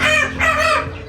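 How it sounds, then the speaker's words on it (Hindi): A rooster crows loud and close in one sustained, strained call lasting about a second, among roosters squabbling on a farm where eggs are being checked for fertility. "मुर्गे जो है ना वो वहाँ पर लड़ना शुरू हो गए हैं।"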